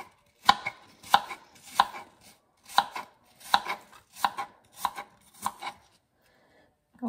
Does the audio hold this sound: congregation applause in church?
no